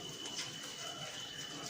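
A dove or pigeon cooing from a tree on a cloudy, drizzly morning, soft and distant under a steady hiss of light rain.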